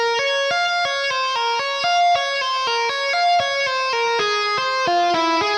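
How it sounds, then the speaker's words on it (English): An electric guitar plays a tapping run from a song: a fast, even stream of bright tapped notes, clean and close, with the pattern stepping gradually lower. "So the whole tapping run will sound like this."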